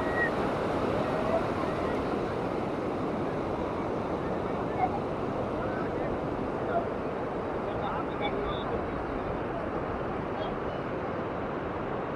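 Ocean surf at Vagator Beach in Goa, a continuous broad wash of waves and wind rumbling steadily at moderate volume, with faint voices in the background.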